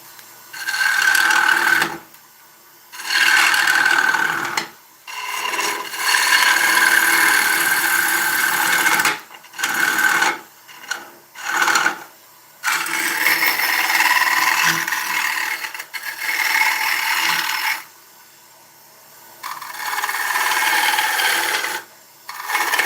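An ash fruit bowl spins on a woodturning lathe while a tool scrapes and rasps against the wood in repeated bursts, separated by brief pauses, close and moderately loud.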